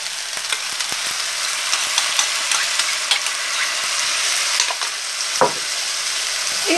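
Pad thai noodles and sauce frying in a pan while being tossed and mixed, a loud dense sizzle with crackling and scraping stir sounds throughout, close up with no talk.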